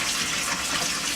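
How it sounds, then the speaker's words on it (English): Warm soapy water gushes from a faucet into a kitchen sink, a loud, close, steady rush of running water filling the basin. "I'm going to fill up the sink with some nice warm soapy water"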